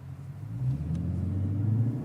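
A car passes on a road, its engine rumbling low and swelling steadily as it draws nearer. The sound is continuous and moderately loud, with no speech over it.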